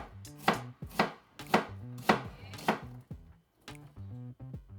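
A knife dices vegetables on a cutting board in five evenly spaced, loud, close chops, followed by a short pause and then a couple of lighter taps.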